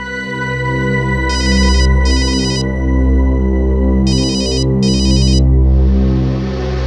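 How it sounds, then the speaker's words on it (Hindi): A phone ringtone sounds in a tense crime-drama scene, two pairs of bright electronic ring bursts over a steady loud musical drone, the ringing close and clear. "किसका फोन है"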